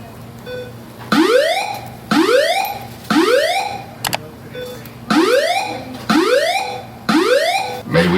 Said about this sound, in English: The alarm that has been activated is being investigated by the fire department.